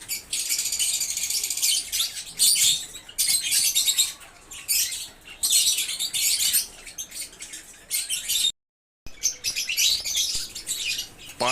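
A breeding pair of Fischer's lovebirds gives dense bursts of shrill, close chirps and chatter, with short gaps and one brief silent break, alone with no voices.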